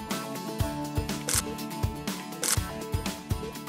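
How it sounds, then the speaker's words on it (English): Repeated mechanical clicks and clacks from a single-lens reflex camera shutter being pressed during a portrait session, several sharp transients spaced irregularly at close range with no talk. "Compress the shutter."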